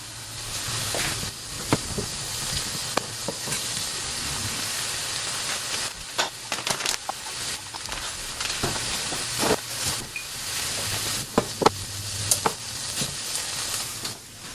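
Egg omelet with ham, potato and onions sizzles in a pan with a steady hiss, broken by occasional utensil scrapes and taps, close and continuous with no talking.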